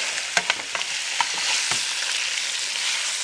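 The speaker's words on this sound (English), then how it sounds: "Basically, this is almost like a stir fry." Stroganoff meat stir-frying in a hot pan, a steady close sizzle broken by a few sharp clicks and scrapes of the spatula early on, then settling into an even hiss.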